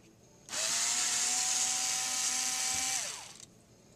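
A power screwdriver or drill whines steadily for about three seconds, removing screws from a Samsung CLP-315W color laser printer, close and loud with a falling pitch as it winds down.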